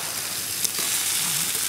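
A knob of butter sizzling in a pan with ceps, a steady close frying crackle and hiss with a brief stirring clatter partway through, no talk.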